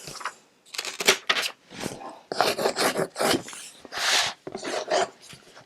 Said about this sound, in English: I'm going to come in with my bone folder and do the same thing. Just burnish the edges down.